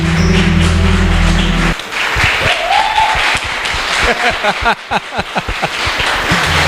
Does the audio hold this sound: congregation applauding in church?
yes